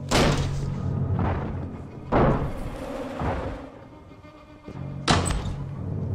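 Heavy, loud thuds of someone banging on a door, several forceful blows spaced irregularly, each with a boomy rattle, close and alone without talk.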